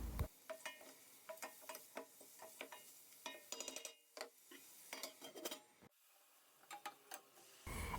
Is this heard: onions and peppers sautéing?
yes